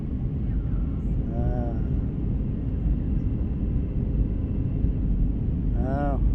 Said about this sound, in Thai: กำลังลงแล้วเด้อเครื่องบินกำลังลงแล้ว